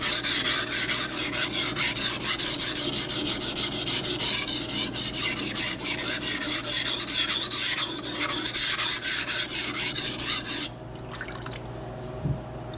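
Close, continuous grinding of a Rada knife on a coarse 220 grit King waterstone in quick repeated strokes, ending abruptly, followed by a few faint clicks and quiet.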